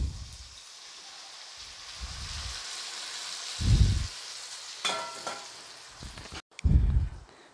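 Tamarind water poured into green chillies frying in a pan for a spicy chilli gravy raises a steady sizzle with a sharper hiss and crackle partway through, plus a few low thumps, close and moderately loud, with no talking.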